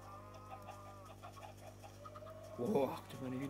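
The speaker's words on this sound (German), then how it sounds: "Oh, guck dir meine Hühner an." Chickens in the Minecraft video game cluck softly and briefly beneath faint background sound, with a clearer burst of clucking near the end.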